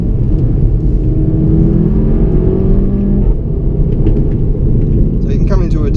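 Engine of a 2016 Volkswagen Golf GTI pulled hard out of a tight corner, a loud continuous droning rumble that rises in pitch, heard from inside the cabin with road noise throughout.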